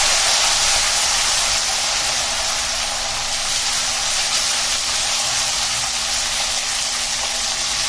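A constant loud hiss of steam rises from cluster beans cooking with cumin and curry leaves in a hot pan, broad and unbroken throughout, with a faint steady hum beneath.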